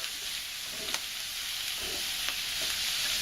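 Cabbage with bacon cooking in a pan, a steady bright sizzle with a few soft stirring knocks, close and even throughout, no voices.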